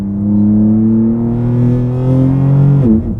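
A 2024 BMW G87 M2 drag build with a wide-open exhaust drives on a back road. It is heard close and loud from the car, with a steady rising engine drone that ends in a sharp lift-off near the finish.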